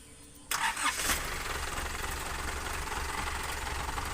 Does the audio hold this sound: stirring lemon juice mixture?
no